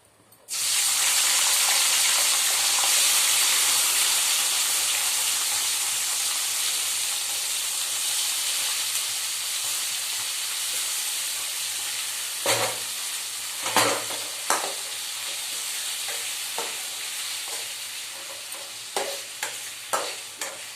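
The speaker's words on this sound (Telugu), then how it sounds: "ఇప్పుడు టమాటాలు వేసుకుందాం." Tomatoes land in hot oil and fry with a loud, steady hiss that fades slowly, broken in the second half by sharp repeated scrapes and knocks as a spatula stirs the pan, close by.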